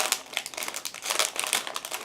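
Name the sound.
opening a sealed plastic bag of model kit frames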